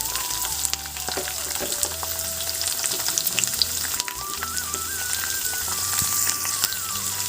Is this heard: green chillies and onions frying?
yes